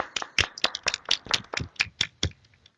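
A conference audience claps for a speaker, a short run of distinct, sharp hand claps in an irregular rhythm that thins out and stops.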